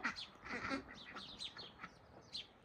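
Ducks on a farm quack and chatter in a quick, busy cluster of calls, faint and somewhat distant, with no voices.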